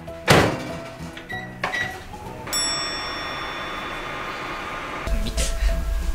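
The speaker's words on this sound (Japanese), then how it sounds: "電子レンジで大体ね、600ワット40秒ぐらいチンしてください" A microwave heating an egg at 600 watts hums steadily for a few seconds, framed by a couple of clunks and a bright chime at the start of the run.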